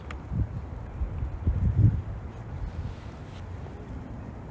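Gusty wind on a Hamburg street buffets the microphone with low rumbling bursts, while faint noise of passing cars hums in the background.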